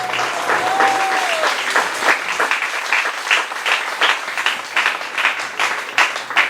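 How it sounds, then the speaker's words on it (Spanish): A church congregation at a Sunday service in Mexico claps their hands in praise of the Lord: a dense, steady round of applause that carries on evenly for several seconds, close and fairly loud. "denle palmas al Señor"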